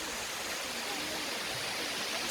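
A waterfall pours steadily in an outdoor spot in the Philippines, giving a dense, even rushing wash of water that stays close and loud throughout with no break.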